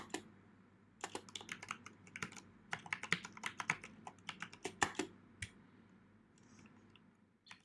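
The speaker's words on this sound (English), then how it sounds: "now you can see I'm typing the environment variables that I defined in" Typing on a computer keyboard while entering environment variables, with irregular bursts of close, crisp key clicks and brief pauses between runs of keystrokes.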